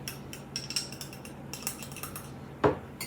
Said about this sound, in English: And then I'm going to add a tablespoon of minced garlic.